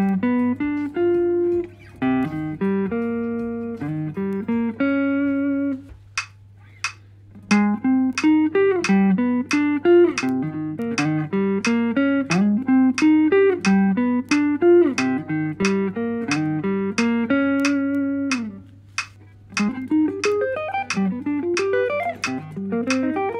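Guitar arpeggios run steadily in an eighth-note rhythm, each note plucked cleanly in rising and falling chord patterns. A constant low electronic hum sits underneath, and the playing continues for over twenty seconds with brief gaps and no talking.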